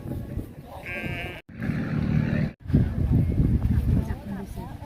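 Sheep bleat at a resort farm in Khao Yai, Thailand, a short wavering call standing out amid near, continuous chatter of people talking over it.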